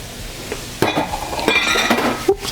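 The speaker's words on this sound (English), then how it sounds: "And we're going to keep it stirring" Grits being stirred in a pot as stock is poured in for shrimp and grits, with scraping and clinking of a spoon against the pot and a faint simmering hiss, several louder knocks spread through the stretch.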